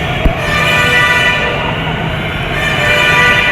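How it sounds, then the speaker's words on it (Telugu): Hyderabad metro train pulling into a station, a steady loud rumbling roar with a brief horn-like toot near the start, sustained throughout with no clear speech. "వచ్చేది అనమాట మెట్రో"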